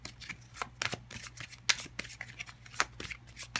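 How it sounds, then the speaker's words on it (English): Tarot cards being shuffled by hand, a rapid run of crisp riffling flicks and snaps with irregular bursts, close and fairly quiet, with no talking over it. "Let's see if we can get 3 tarot cards to help us accompany this."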